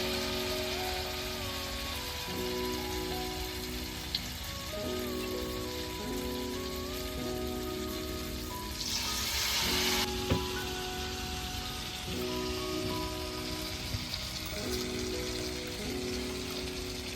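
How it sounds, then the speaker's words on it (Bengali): An egg coated in flour batter deep-frying in hot mustard oil gives off a steady, dense crackling sizzle that holds level throughout, with background music playing underneath. "তেল গরম হয়ে গেছে, এবার ডিমটা ব্যাটারের মধ্যে দিয়ে আমি ভেজে নেব।"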